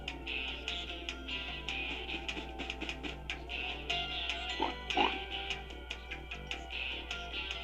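Rocket pigs oinking in the platform game Spyro 2: Ripto's Rage, repeated grunting oinks over a steady game music bed with a low constant hum underneath.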